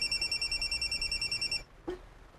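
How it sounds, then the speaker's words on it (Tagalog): Electronic telephone ringing in steady repeated trills, fairly loud and alone, stopping abruptly partway through, followed by a brief faint knock. "Nanawag pa si Ma'am Agnes?"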